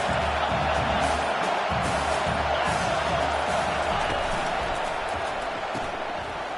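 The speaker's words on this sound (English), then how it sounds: "Listen to this crowd just shaking the girders of this place" A college football stadium crowd in a Colorado vs Iowa video game matchup roars continuously, a broad, even wall of noise that holds steady at moderate loudness with a commentator talking underneath.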